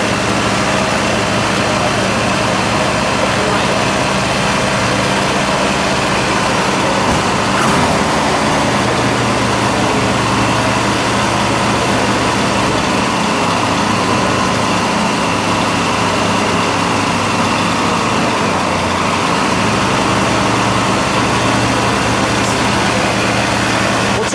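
A 1970 Mercury Cougar Eliminator with a Boss 302 V8 sits at a high idle, a loud, steady low rumble with a brief dip partway through and faint voices in the background.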